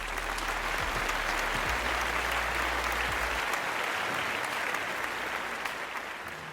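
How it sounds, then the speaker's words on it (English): Graduates stand and applaud their family and friends at a 2021 convocation ceremony, dense continuous clapping held steady throughout, with a low hum fading out early on. "Graduates, would you please stand and applaud your family and friends?"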